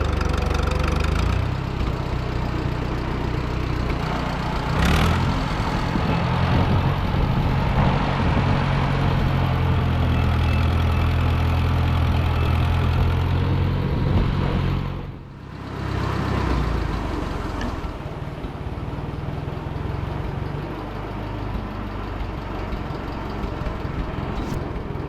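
A four-cylinder tractor engine idles steadily and close by with a rough, knocking rumble, briefly dipping once before settling back to its even run.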